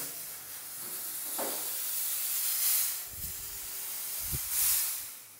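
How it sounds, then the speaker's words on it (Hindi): A smoke machine releases bursts of smoke into a room during an air purifier test, a steady hiss with a few louder spray-like puffs, fairly close. "अब हम भाई स्मोक चलाते हैं थ्री टू वन स्मोक"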